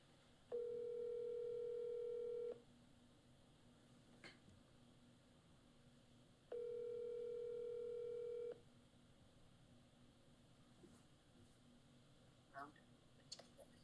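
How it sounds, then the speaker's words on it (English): Telephone ringback tone heard while a call is being placed: two long steady buzzing rings about two seconds each with a pause between, followed by faint clicks, in a quiet room. "we're about to make that phone call"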